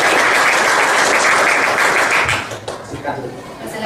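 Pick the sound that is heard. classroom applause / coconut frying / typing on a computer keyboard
classroom applause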